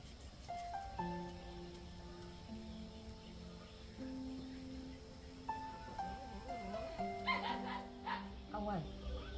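A dog barks and whimpers on a farm, with high whining tones and yips over a steady background of insects, and livestock noise nearby.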